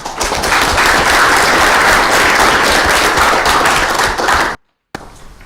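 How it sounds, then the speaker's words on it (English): A law school audience at a moot court competition final applauds loudly and evenly for over four seconds, then the clapping cuts off abruptly into near silence, and a soft sound resumes briefly after. "So another round of applause."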